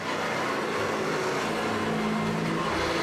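A vintage Hoover vacuum cleaner runs close by with a loud, steady roar and a low droning hum, unbroken throughout with no voices over it.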